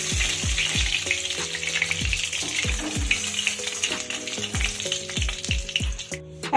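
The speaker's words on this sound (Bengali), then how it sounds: "এখন ওই তেলেই আমি আলুগুলোকে ভেজে নেব।" Potatoes sizzle and crackle as they fry in hot oil that was just used for fish, a steady bubbling hiss with repeated sharp utensil clinks and stirring knocks throughout, close and fairly loud.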